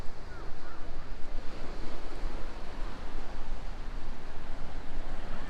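Ocean surf rolls onto the shore at Myrtle Beach in a steady, dense wash, with wind buffeting the microphone throughout and no speech.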